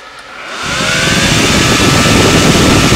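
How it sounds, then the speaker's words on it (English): Vantec Tornado high-speed ventilation fans in a solar-powered shop run with a loud, steady whooshing roar that swells over the first second, then holds close and constant. "And these are the high speed fans right here. But these are loud."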